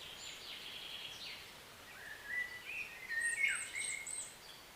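Small forest bird singing, a few thin, high chirping phrases that grow slightly fuller toward the end, faint and fairly distant over a quiet background hiss.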